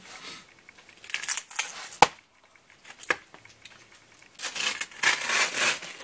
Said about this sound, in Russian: Так, один скотч разорвал.